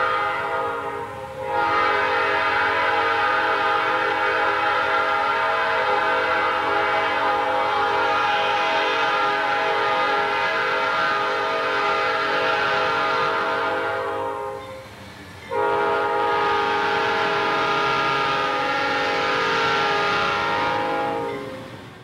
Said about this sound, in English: While in town, the train performed several run-bys.